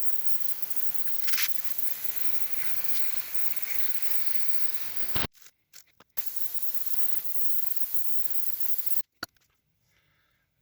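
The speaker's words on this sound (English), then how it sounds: "I'm going to just expend an entire can of penetrating oil and just fill it." A can of penetrating oil sprays in long continuous hisses onto the steering knuckle of a 1972 VW Super Beetle, stopping abruptly twice with short bursts and quiet gaps between.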